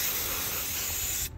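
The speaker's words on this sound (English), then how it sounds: "You can use whatever brake cleaner you have, they really work. Let's just spray it inside." Brake cleaner sprays inside a PC case in one loud, continuous aerosol hiss up close that cuts off abruptly at the end.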